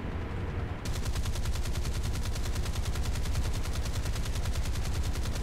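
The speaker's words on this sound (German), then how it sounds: "Ich frage mich, auf was die gerade alles schießen" Rapid, sustained automatic gunfire from a naval battle in the video game War Thunder, dense overlapping bursts that rattle continuously and loudly throughout, with no talking.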